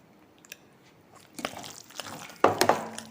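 Soft crunchy chewing while tasting homemade vadukapuli pickle made with green chilli and coconut oil, quiet at first, then a few louder bites and crunches near the end.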